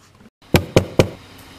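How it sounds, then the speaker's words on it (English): Three firm, evenly spaced knocks on a door, loud and close, with quiet before and after. "I have someone knocking at my door"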